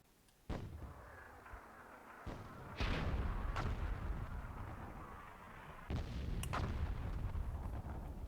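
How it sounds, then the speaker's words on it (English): Cannon shots in the Myth II: Soulblighter video game, with several booming artillery blasts and sharp pops followed by rumbling decay, at moderate level against a low background. "Oh, we see a nice cannon shot there from Overdose."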